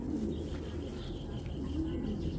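Racing pigeons in a loft give soft, low, rolling coos, faint and close together, against a quiet room background.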